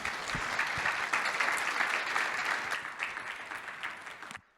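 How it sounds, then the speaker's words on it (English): Audience applause for conference panelists rolls on as thick, steady clapping, gradually thinning and then cutting off abruptly near the end. "Let's give them a round of applause once again, ladies and gentlemen"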